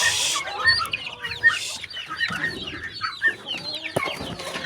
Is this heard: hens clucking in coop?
yes